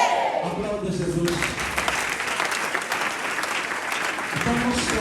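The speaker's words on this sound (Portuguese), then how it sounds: "Aplauda Jesus." A church congregation breaks into sustained applause, loud and steady for several seconds, with a voice speaking over it at the start and end.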